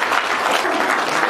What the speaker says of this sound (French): Alors donc on va encore s'applaudir.